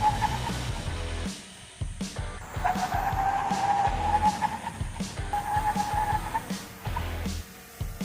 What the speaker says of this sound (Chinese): 我们做了5次的连续紧急制动